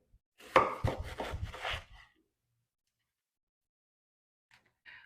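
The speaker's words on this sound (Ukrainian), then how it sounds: "Почну з нарізання пікінської капусти." A quick burst of knife chopping on a board, rapid rhythmic cuts through crisp cabbage, then silence with a couple of faint taps at the end.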